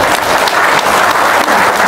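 An audience claps at a live event in Lampung, a loud, dense burst of applause filling the moment without talk.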